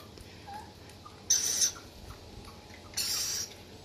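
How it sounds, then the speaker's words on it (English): Two short bursts of shrill, screechy rainbow lorikeet calls stand out over a quiet outdoor background in spring, each lasting under half a second. "They're very pretty birds, the rainbow lorikeets,"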